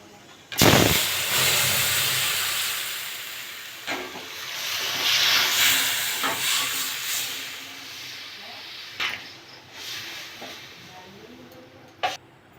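Hot panch phoron and dried red chillies fried in oil are poured into simmering raw-mango dal, giving a loud burst of sizzling and hissing that gradually fades, with a few sharp clinks of utensils.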